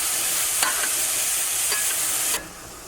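Mushrooms fry in butter in a pan, a steady loud sizzle up close with a couple of stirring scrapes before the hiss suddenly drops lower near the end.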